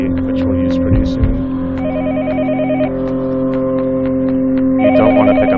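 In Yomawari: Night Alone, a telephone trills in two short pulsing bursts over a loud, steady droning background hum.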